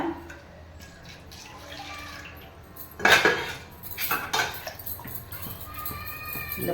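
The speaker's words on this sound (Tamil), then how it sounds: "பாத்திரத்தை அப்படியே அலாசி ஊற்றிக்கலாம்" Metal pot clanks against utensils while water sloshes and splashes inside it, a few loud knocks amid steady rinsing, close up, while cooking ragi millet in a pressure cooker.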